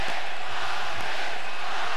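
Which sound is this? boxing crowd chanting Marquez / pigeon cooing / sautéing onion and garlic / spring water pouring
boxing crowd chanting Marquez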